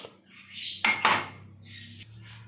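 A spoon clinks against a pan while cloves, black peppercorns and carom seeds roast over a very low flame, giving two sharp metallic knocks among softer scrapes.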